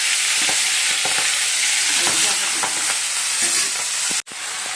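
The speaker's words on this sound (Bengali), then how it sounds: "বন্ধুরা, পাঁচফোড়ন তো দেখো লাল হয়ে গেছে। এবার পুঁই শাকগুলো দিয়ে দিচ্ছি।" Malabar spinach goes into hot oil with reddened five-spice seeds, and a loud, steady frying sizzle with stirring scrapes fills the clip before a sudden brief drop near the end.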